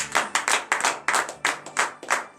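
A church congregation claps in a steady, rhythmic beat during a morning prayer service, about seven sharp claps, loud and close with no talking over it.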